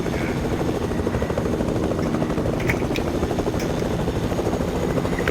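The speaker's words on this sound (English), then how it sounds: "Let's get the helicopter." A helicopter in a video game drones with a steady, loud rotor buzz throughout, holding an even level from start to finish.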